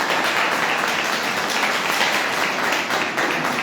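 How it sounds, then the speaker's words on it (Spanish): Applause from a school audience of students, a steady wash of many hands clapping together, fairly loud and continuous throughout with no pause. "yo quiero dar un aplauso grande a todos estos testimonios que han recibido ustedes acá"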